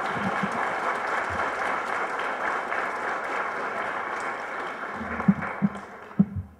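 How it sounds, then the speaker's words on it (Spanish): Audience applause at a book presentation event honoring a doctor, a steady wash of clapping that thins out toward the end, with a few heavier thumps near the close before fading. "Así es que un aplauso al doctor Victorino."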